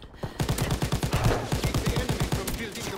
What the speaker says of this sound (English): I don't care, I like killing everyone with the turret.